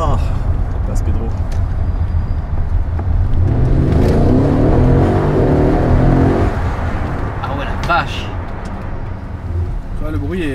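Mercedes ML 63 driving past, its engine roar swelling loudly and then fading away as it goes by, while people talk nearby.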